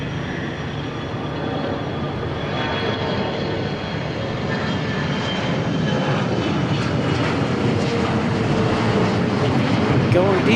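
A Gulfstream business jet takes off from Dallas Love Field, its engine rumble a steady, fairly distant roar that swells slightly toward the end.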